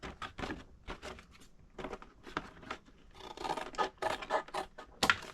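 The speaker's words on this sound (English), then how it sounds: "I'm going to cut these off." Scissors snip through paper while someone trims a junk journal, giving a series of close, crisp cuts in an irregular rhythm with soft rustling between them.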